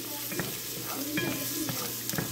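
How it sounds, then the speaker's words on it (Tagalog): Garlic sizzles steadily in a hot pan while being toasted, with quick scraping stir strokes breaking through the continuous crackle. "Atin muna papulahin ang garlic or toasted garlic"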